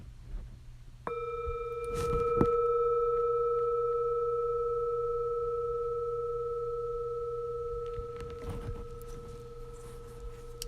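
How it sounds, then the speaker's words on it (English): A single bell struck once, a clear ringing tone that sustains and slowly fades over several seconds, with faint rustling at the start and end. "Did you like that bell?"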